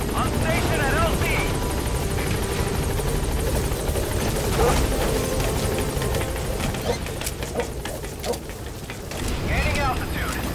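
In Metal Gear Solid V, a helicopter nears a landing zone, its rotor thudding in a steady, loud drone that fills the scene, while a radio voice and other game chatter sound over it.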